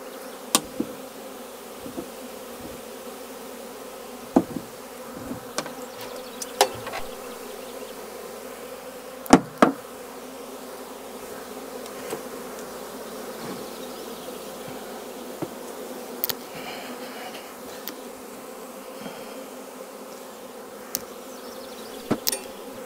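A swarm of honey bees being shaken into a hive box fills the air with a steady, dense buzz that continues throughout, with scattered bumps and knocks from handling the box and no talking.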